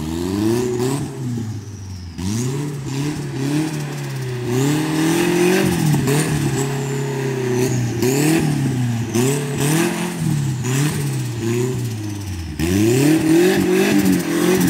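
Turbocharged Nissan 240SX engine revving hard and repeatedly during a rainy drifting session, with rising and falling loud, close revs and brief lifts between pulls, no talk over it.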